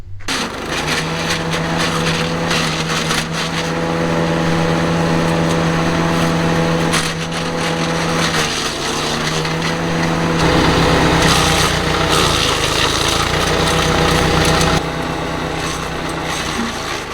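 A small wood chipper grinds twigs, its light engine whining steadily while the pitch and load shift as branches feed through in bursts, loud and close with no talking.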